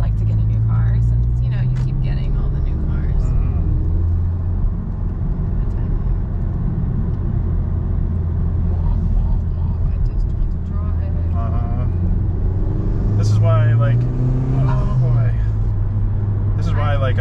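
A Honda Civic Type R drives along a road, its engine drone and tyre rumble steady and close throughout, with a couple of rises in revs and people talking over it inside the cabin.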